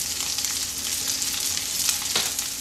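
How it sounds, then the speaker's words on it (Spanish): Crab cakes fry in a pan of melted butter and oil, giving a steady close hiss and crackle with a brief louder sizzle burst near the end. "He derretido un poquito de mantequilla y un poquito de aceite en esta sartén."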